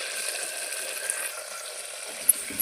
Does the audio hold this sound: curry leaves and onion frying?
yes